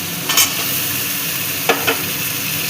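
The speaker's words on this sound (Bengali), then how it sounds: "এবার দিয়ে দিচ্ছি এর মধ্যে ভেন্ডি।" Okra is tipped into a hot pan of frying potato and pointed gourd curry and stirred, bringing a steady sizzle with a few sharp scraping clatters.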